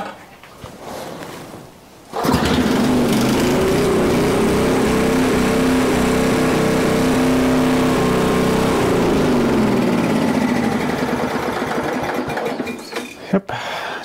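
A Bear Cat wood chipper's engine, recently tuned with the idle lowered, starts abruptly and runs loud and steady with a buzzing, slightly uneven drone close by, then drops off at the end.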